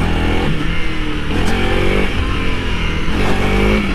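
A Honda CRF300L dual-sport motorcycle revs hard in first gear during a power wheelie attempt, its loud, close engine roaring continuously with revs rising and falling.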